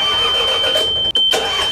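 A fishing boat's engine, started on a cold winter day using its cold-start control, runs loud and steady close by, with one brief drop partway through before it carries on.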